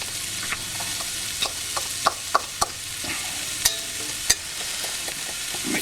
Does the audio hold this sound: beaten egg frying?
yes